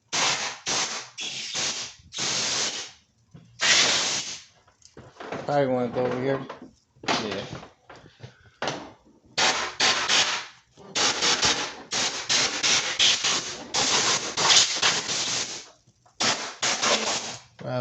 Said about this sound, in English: we're going to spray all this with compressed air so your engine's safe